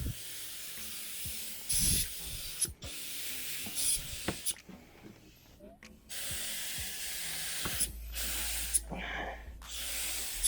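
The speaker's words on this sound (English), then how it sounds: "we got to stop talking and start spraying" Spray gun spraying metal flake paint in repeated hissing bursts of varying length, separated by brief pauses and soft handling clicks, close and moderately loud.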